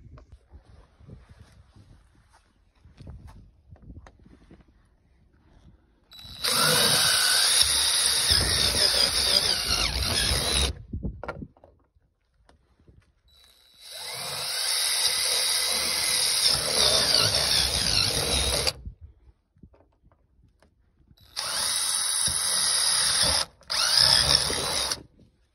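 A power drill boring holes while a rear window is fitted on a 3010 Kawasaki Mule UTV, three loud sustained whining bursts separated by short quiet pauses, with a brief stop near the end of the last run.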